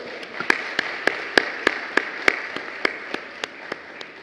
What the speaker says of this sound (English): please join me to give a huge round of applause to our sponsors